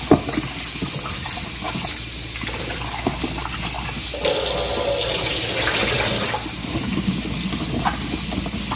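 Tap water runs steadily over pieces of taro root being washed in a sink, a constant close splashing rush that swells louder midway, with no talk.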